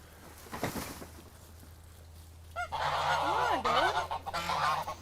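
Geese honk loudly and repeatedly at close range on a farm, their nasal calls overlapping over a steady low hum.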